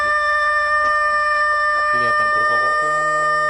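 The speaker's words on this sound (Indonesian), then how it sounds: "ini ada ayam. Dia ini sedang berkokok." A rooster crows once, loud and close, in a rising then drawn-out call over a steady electronic hum, following a brief cluck.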